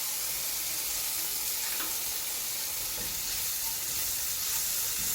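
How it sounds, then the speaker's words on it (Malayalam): Sliced onion with ginger-garlic paste frying in a pan for egg pasta, a loud, continuous close-up sizzle with bright hiss and faint stirring clicks, steady throughout with no talking. "സവാള ഒന്ന് വാടിയിട്ട് ചെറുതായിട്ട് വാടി വന്നിട്ട് കുറച്ച് ഇഞ്ചി വെളുത്തുള്ളി പേസ്റ്റാക്കി വെച്ചെടുക്കാം"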